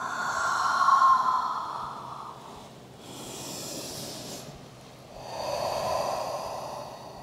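Two long, soft exhales from a person practising vinyasa flow yoga, breathed close to the mic with a quiet pause between them and no talking.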